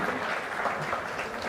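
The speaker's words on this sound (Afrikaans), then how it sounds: "Ons geef hom 'n lekker hande klap." A church congregation claps for a person receiving a gift, a dense, steady round of applause filling the room without a break.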